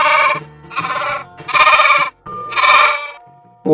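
A sheep bleats repeatedly and close by, four or five loud, trembling baas in quick succession separated by short gaps, with another call beginning at the very end.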